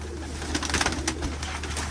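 Pigeons coo softly amid a steady hum, a few low coos layered over continuous background noise at a moderate distance.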